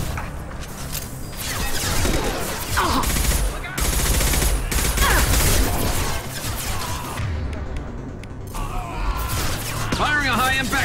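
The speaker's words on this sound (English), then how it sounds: "Firing a high-impact shot!" Gunfire in the game Mass Effect 2, with a high-impact shot among dense, continuous bursts of weapon fire and mechanical clanks. Voices shout over the fighting.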